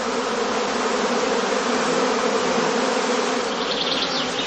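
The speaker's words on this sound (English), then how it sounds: "The bees are now restless and run back and forth in the beeways" A dense, steady hum of many honeybees fills a heather skep as the colony grows restless before swarming, a continuous close-up buzzing with no pauses or voices.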